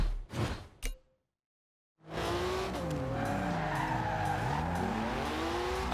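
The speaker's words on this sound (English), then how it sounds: "I love the way this car drifts." A 1982 Porsche 911 Turbo 3.3 drifts in Forza Horizon 2, its engine roaring continuously under long, wavering tire squeals after a brief silence and some clatter.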